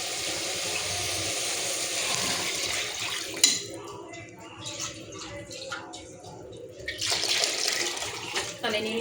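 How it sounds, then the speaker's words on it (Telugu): Water pours into a cooking pot with a rushing, splashing stream that stops briefly after a knock, then resumes loudly near the end, with a voice speaking in between. "ఇగోండి ఇప్పుడు దీంట్లో వేసరికి సరిపోయి నీళ్ళు పోద్దాం."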